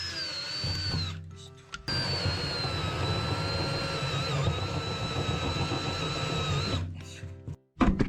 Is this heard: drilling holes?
yes